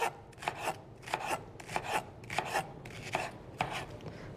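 Green onions chopped on a board for garnish, a brisk run of about eight sharp knife strokes in quick, uneven pairs, close and clear with no voices.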